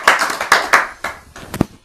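An audience applauding at an indoor group gathering: a short, sparse burst of a few hand claps, uneven and quickly tapering off, fairly close.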